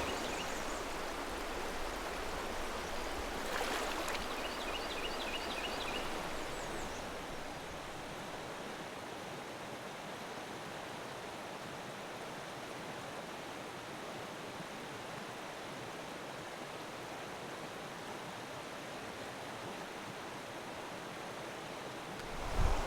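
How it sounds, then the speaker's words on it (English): A long, shallow mountain stream in the Great Smoky Mountains runs steadily, a broad continuous rushing wash of water close by with no talk, slightly fuller in the opening seconds. "That is very pretty typical Smoky Mountain water. I love that. Long, shallow runs."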